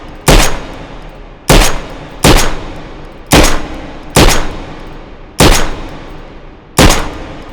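Seven loud gunshots ring out in the H3VR video game, a rifle such as an M1 Garand, spaced roughly a second apart with a slightly uneven rhythm, each sharp crack trailing a short echoing tail.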